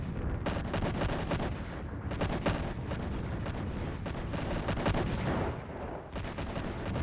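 Sustained volleys of gunfire from units trading shots in a space-strategy battle in Imperium Galactica, dense overlapping bursts pounding continuously and steadily loud throughout, with no talk.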